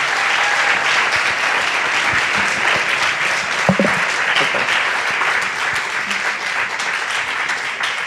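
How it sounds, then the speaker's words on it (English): An audience at a pitch competition breaks into steady, dense applause, many hands clapping together, sustained and fairly loud from start to finish. "a big hand of applause for iSense"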